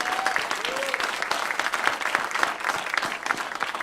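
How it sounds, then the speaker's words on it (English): An audience at a conference applauds group members, a dense steady round of clapping from a full room that continues evenly without a break. "just to give these guys another round of applause"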